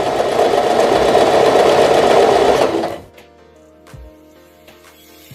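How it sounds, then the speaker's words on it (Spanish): A Janome 1000A sewing machine running a straight stitch, a loud, steady whirring hum for about three seconds that stops abruptly, followed by quiet mechanical clicks and a soft thump. "Seguimos cosiendo con costura recta."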